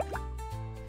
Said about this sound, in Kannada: ಆ ಗುಳ್ಳೆ ಅದರ ಮುಖದಾದ್ಯಂತ ಸಿಡಿಯಿತು